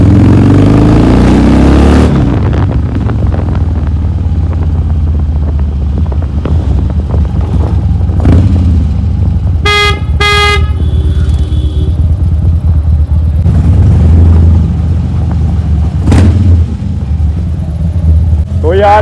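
A Harley-Davidson motorcycle engine rumbles loud and close while riding, with deep revving swells. Someone talks over it almost throughout.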